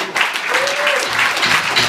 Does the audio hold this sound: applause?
yes